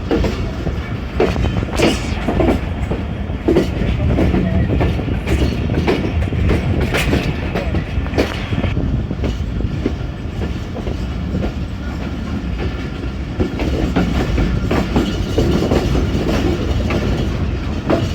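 A passenger train running from Rawalpindi toward Wazirabad rumbles loudly as it nears Jhelum station, with continuous clickety-clack of wheels over rail joints and a dense, close carriage roar throughout.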